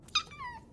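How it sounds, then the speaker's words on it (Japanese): A small kitten lets out a single thin, rising-then-falling meow, close but fairly quiet, against a soft room background. "って猫じゃん。 え、猫いんの？"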